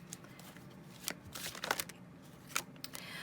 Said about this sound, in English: Shuffle again. Yes? Riffle?